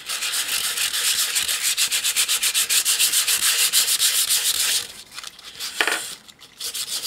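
Sandpaper rubs quickly back and forth over a small craft piece, giving a loud, steady rasping rhythm for several seconds that stops abruptly, followed by a few quieter scuffs and rustles.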